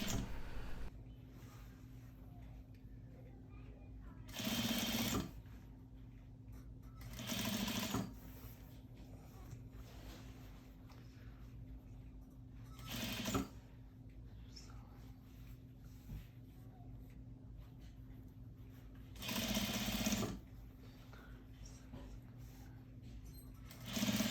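A sewing machine stitches a scalloped yoke onto stretch fabric panels in several short bursts of rapid mechanical chatter, close and fairly loud, separated by quiet pauses with a faint background hum.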